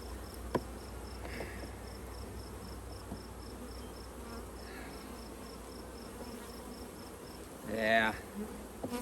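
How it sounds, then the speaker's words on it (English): Honey bees buzz softly in a hive, a faint steady drone with scattered louder passes close by, plus a brief rustle near the end. "It's full of bees."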